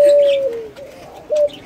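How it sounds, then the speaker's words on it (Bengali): A pigeon coos close by, two clear tonal calls with a short pause between them, each ending in a soft falling note. "আর এই কবুতর দেখে ডাকে"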